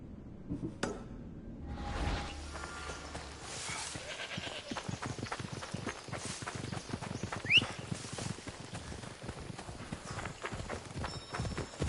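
A horse gallops across a game world in Assassin's Creed Odyssey, its rapid hoofbeats drumming in an even rhythm throughout, close and prominent with a brief vocal shout near the start.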